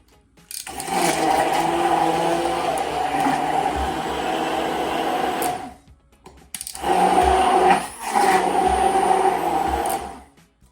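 A Cuisinart Smart Stick immersion blender whirs loudly and steadily at close range in two long runs of about five and four seconds, separated by a brief stop, with a steady high motor hum and no talking.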